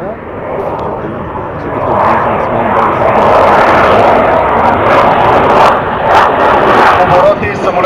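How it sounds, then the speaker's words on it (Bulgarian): A MiG-29 fighter jet flies a slow, high angle-of-attack manoeuvre at about 180-200 km/h and roughly 30 degrees. Its engine gives a loud, continuous roar that swells after a couple of seconds and then holds steady, heavy and near. "Обороти и самолетът тръгва нагоре. При МиГ-29."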